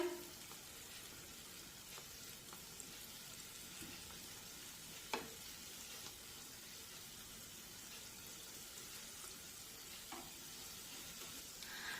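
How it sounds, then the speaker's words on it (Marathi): Pea kachoris deep frying in hot oil give a steady, moderately quiet sizzle throughout, with a few faint clinks and taps from turning them over; no voices. "दोन्ही बाजूने छानपैकी या कचोऱ्या आपण सोनेरी रंगावर तळून घेऊया"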